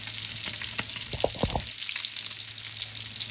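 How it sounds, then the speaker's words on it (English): Vegetables sautéing in bacon fat in a pan, a steady close hiss of sizzling with a few brief clinks and stirring knocks midway. "now we're going to add our veggies that we want to saute"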